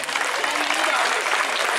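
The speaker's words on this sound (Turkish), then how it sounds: "Ona da bir alkış istiyorum." Steady, dense applause from an audience at a school year-end exhibition in Adapazarı, a full even wash of many hands clapping close by that holds without a break.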